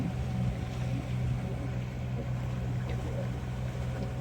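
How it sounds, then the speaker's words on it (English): An Island Packet 370 sailboat motor sailing at night off Catalina Island, its engine a steady low drone with water and wind rushing around the hull, continuous and fairly close throughout. "So we're motor sailing."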